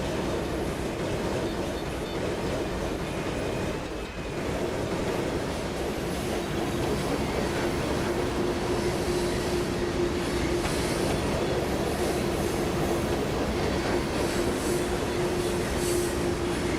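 Loaded coal train rolling past in the Trainz railroad simulator, using sounds recorded from real coal trains: a steady, loud continuous rumble of railcars with rail noise and faint wheel squeal, no talking.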